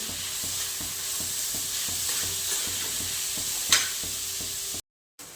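Paneer bhurji with coriander sautéing in a pan, a continuous close sizzle with regular rhythmic scrapes of a spatula and one sharper clatter near the end before a short silence.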